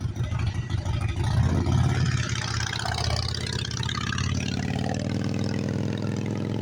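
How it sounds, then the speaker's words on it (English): A motorcycle with loud pipes rumbles nearby, its deep engine drone rising in a brief rev before settling into a steady throaty idle, with no talk. "Now this motorcycle changes the harmonics pretty good."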